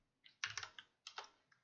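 Quick bursts of keystrokes on a computer keyboard during coding, close and fairly soft, in two short clusters with a brief pause between them.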